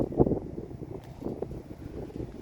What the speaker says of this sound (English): Sorry if we get any wind noise from this.